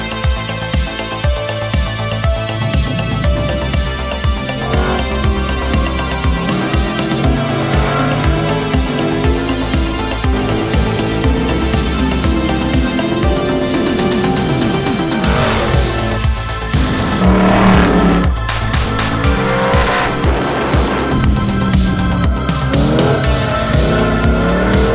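A Snap-on Factory Five Mk4 Challenge race car drives hard on a track. The engine roars loudly and continuously, rising and falling with gear changes, with squealing tires in the corners.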